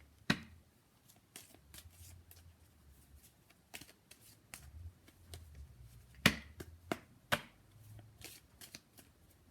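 Tarot cards are shuffled and handled, giving soft riffling bursts and a few sharp, close snaps of cards against one another, quiet overall with pauses between the handling sounds.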